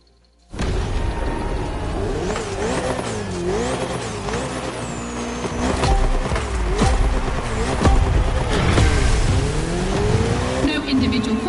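Race car engines roar and rev steadily in The Crew Motorfest's Ferrari versus Red Bull circuit face-off, with gear shifts, rising pitch and tire squeal. The sound is loud and continuous under a talking voice.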